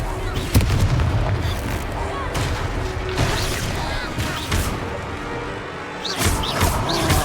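Repeated Confringo spell explosions booming and crackling in a Hogwarts Legacy fight against a troll in Hogsmeade, a dense, loud barrage of blasts and crashes with faint voices mixed in.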